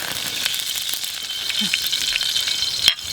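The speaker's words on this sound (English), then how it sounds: "into that I'm going to put about 4 tablespoons of oil" About four tablespoons of oil sizzle steadily in a camping pan over a campfire, a close, even hiss with faint crackles and a clink of metal near the end.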